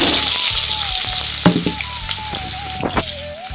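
Onion and garlic dropped into hot oil in a pan where potatoes are already frying give a steady, close sizzle, with a few sharp stirring knocks and scrapes and no voices.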